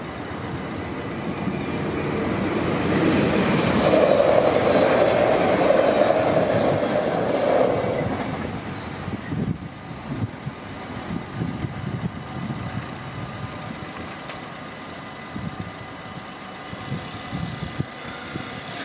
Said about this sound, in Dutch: De trein zal spoedig komen.